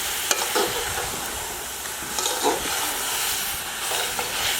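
About two kilograms of chicken frying and being stirred into a tomato and onion paste for Kabuli pulao, giving a steady close sizzle with occasional stirring scrapes and no talking.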